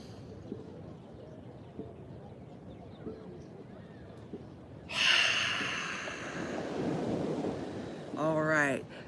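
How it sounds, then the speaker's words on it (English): A yoga student takes a deep nasal inhale at the beach, a breathy rushing draw that swells midway, set against steady surf and wind, with a brief sharp snort-like sound near the end. "One more inhale through the nose."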